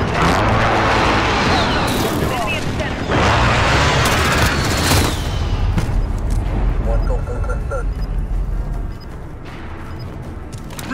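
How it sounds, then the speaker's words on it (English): Heavy rumbling explosions from a precision airstrike in the game Call of Duty: Modern Warfare, a loud sustained barrage of booms and crashes that fades toward the end as game voice lines play. "Enemy precision airstrike."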